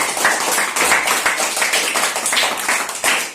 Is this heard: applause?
yes